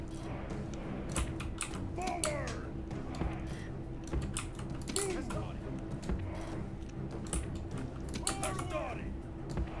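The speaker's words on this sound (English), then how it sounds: "I'm sorry for the very clicky keyboard." A very clicky computer keyboard clatters through a steady stream of rapid keystrokes while someone plays a Total War Rome strategy game, close and crisp under continuous low game ambience, with faint talking mixed in.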